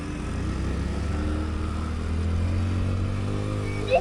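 A 100cc motorcycle labours up a steep hill road in low gear, its engine droning steadily and loudly with a strained, buzzing tone throughout, no speech over it.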